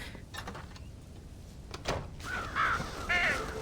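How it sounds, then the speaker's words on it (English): Crows caw at a corn silo in the Red Dead Redemption video game, two or three raspy calls near the end over a soft outdoor background with a few knocks before them. "Scare the crows of the silo."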